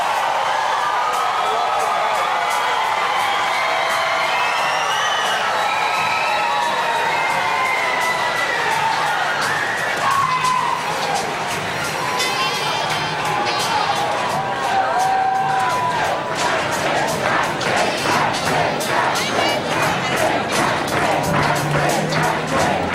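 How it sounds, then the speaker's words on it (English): A crowd cheers and whoops at an Australian federal election night tally room in 2007, a sustained roar of voices rising and falling, with shouts and some clapping building toward the end. "It's going to be hard to work out which cheering is coming from where Maxine McHugh is and which is coming from the tally room."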